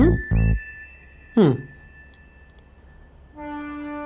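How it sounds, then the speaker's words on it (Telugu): A train pulls into a station in a drama scene, its horn blaring in short bursts while a sustained whistle tone holds and a rumble of rail cars sits underneath, with a longer horn blast at the end. "ట్రైన్ వచ్చింది."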